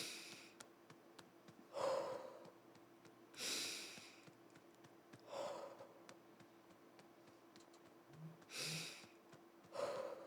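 Slow, deep calming breaths repeated about six times at steady intervals, each a close, audible inhale or exhale with a soft nasal rush, separated by quiet pauses.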